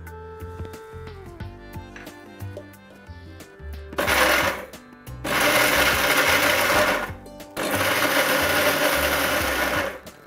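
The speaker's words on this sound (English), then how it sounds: "The first process is going to be grinding these ingredients" A mixer grinder whirs through chilies, coconut, cumin seeds and curry leaves for a Kerala Onam Sadya dish, running in three loud bursts of several seconds each after a stretch of background music.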